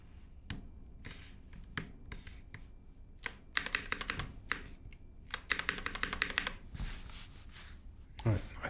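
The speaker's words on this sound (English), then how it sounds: "I think the spacebar sounds better here." Rapid, uneven clacking of keys on a custom-built mechanical keyboard with a newly fitted spacebar, close and clear in bursts with brief pauses, plus heavier thocks, and a voice talks softly at times.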